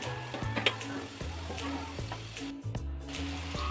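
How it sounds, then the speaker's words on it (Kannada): Tomatoes sautéing in oil in a pan give a steady, close sizzle with soft stirring scrapes, while a low rhythmic tone pulses underneath. "ಟೊಮಟೊನೂ ಸೇರಿಸ್ಕೊತಾ ಇದ್ದೀನಿ, ಅದನ್ನು ಚೆನ್ನಾಗಿ ಹಸಿ ವಾಸನೆ ಹೋಗೋ ತನಕ, ಫುಲ್ ಸಾಫ್ಟ್ ಆಗೋ ತನಕ ಬಾಡಿಸ್ತಾ ಇರಬೇಕು"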